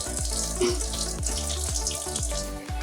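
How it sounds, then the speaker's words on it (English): Tap water runs steadily into a sink as blackberries are rinsed under it, a continuous close splashing stream with light thuds as the berries shift, and no talking. "And so just run the water through. Just rinse them all off."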